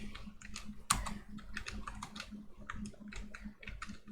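Quiet, close clicking of a computer keyboard as WASD keys are pressed for game movement, with irregular taps and a sharper keystroke near the start, alone with no talk.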